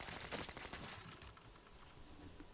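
Rapid burst of gunfire from the Peppermill Crank-Gun, a modded weapon in Fallout 4, crackling in a quick clattering stream that tapers off over a couple of seconds, fairly faint with no voices.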